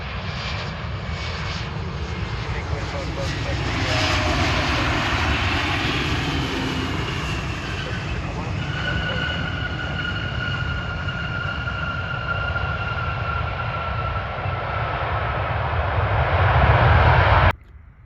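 An Airbus A320 airliner's engines roar at Cleveland airport on a foggy evening, a loud sustained rumble with a rising whine that swells toward the end before stopping abruptly.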